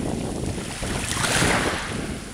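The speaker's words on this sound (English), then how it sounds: "the way these waves are breaking on the beach is absolutely fascinating" Waves breaking on a sandy beach at Mytilini, a loud continuous wash of surf that swells toward the middle, mixed with wind buffeting the microphone, no voices.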